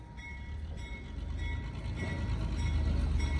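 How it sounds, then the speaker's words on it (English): A Dupps Railroad switcher locomotive passes close by, a heavy, steady rumble that grows louder throughout, with no talking. "Here's a little Dupps Railroad switcher, the only engine that they currently have."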